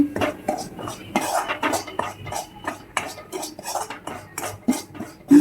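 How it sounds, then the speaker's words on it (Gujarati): A spoon stirs and scrapes coarse wheat flour roasting in ghee in a pan over low heat, giving a steady run of close metallic scrapes and soft clinks with brief pauses. "2-3 ચમચી ઘી નાખીશું અને પછી આપણે એની અંદર ઘઉંનો લોટ નાખીશું."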